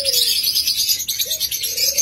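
A breeding pair of large pet cockatiels or lovebirds gives dense, rapid high chirping, loud and close, running unbroken with a few lower coos.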